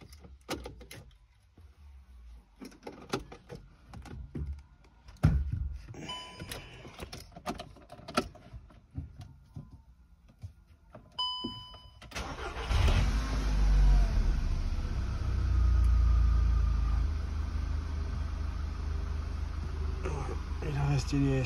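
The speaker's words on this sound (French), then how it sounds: "On va essayer de démarrer la voiture." A VW Golf 6 GTI with ABS, power steering and battery charging faults starts up after a stretch of clicks and small handling noises. Its engine then catches and settles into a steady, loud, low idle.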